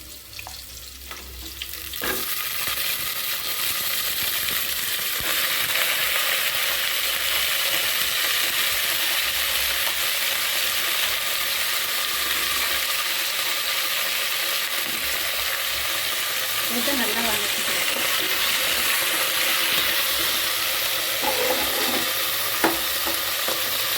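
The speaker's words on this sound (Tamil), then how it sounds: "காய் போட்டுக்கலாம் காய் நல்லா எண்ணெயில் வணங்க நல்லாயிருக்கும்" Cabbage frying in hot oil in a pan while being stirred, a steady broadband sizzle running throughout with occasional scraping stirs and utensil knocks, close and fairly loud, no talking.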